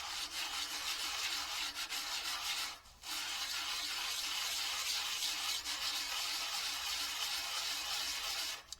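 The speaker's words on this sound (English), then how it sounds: "Started off with an aggressive sandpaper because I've got a lot of material to remove." Coarse sandpaper rubbing an oil pump cover for an IH C-153 tractor flat against a melamine tabletop, a continuous harsh rasping scrape with a brief pause midway, close and fairly loud.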